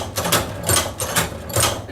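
A hand-crank Cowboy Outlaw leather stitching machine sewing through leather makes four steady, rhythmic mechanical clunks close by, with a voice talking alongside.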